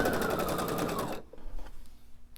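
A sewing machine stitches fabric triangles together for a pillow, running in a steady, rapid mechanical whir for just over a second before stopping abruptly, leaving faint handling sounds.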